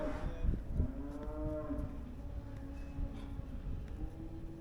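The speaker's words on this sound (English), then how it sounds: "I just dried off the second cow" A dairy cow moos in long, low, drawn-out calls, fairly close in a barn setting, with faint shuffling and farm background noise between calls.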